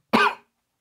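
A single short, sharp cough from a man lecturing, close and clear, lasting a fraction of a second before silence.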